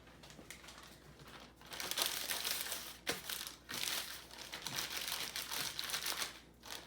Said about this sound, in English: I'm actually going to get a Ziploc bag